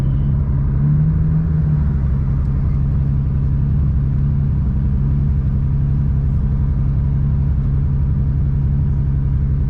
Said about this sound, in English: Burnout. Gotta get the tires warm a little bit.